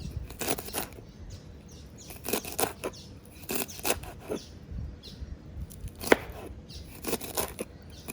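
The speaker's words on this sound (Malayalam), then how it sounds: "നമുക്ക് വട ഉണ്ടാക്കാനായിട്ട് നമുക്ക് ഇതൊന്ന് അരിഞ്ഞെടുക്കാം" A knife chopping greens on a board for vada makes quick bursts of crisp cuts separated by short pauses, close and fairly quiet with no talking.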